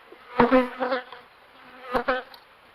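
Honey bees buzz close by at a hive in a few short bursts, the droning hum rising and fading between quieter gaps.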